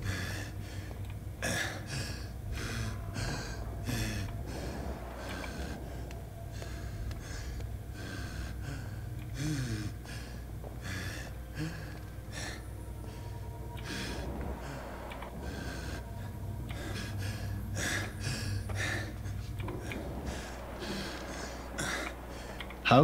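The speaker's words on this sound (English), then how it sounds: "The heavy breathing is a little annoying." The player character in the vampire video game Vampyr breathes heavily, a steady run of audible, gasping breaths repeating for over twenty seconds above a dim, low game ambience.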